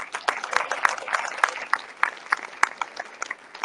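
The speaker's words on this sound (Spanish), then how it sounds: "Den un aplauso al Señor." Congregation clapping in a church service, scattered hand claps forming a moderate, uneven applause that stays steady throughout.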